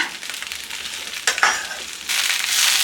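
Okra frying lightly in oil produces a bright, close sizzle, interrupted by a couple of stirring scrapes, and grows to a fuller crackle toward the end.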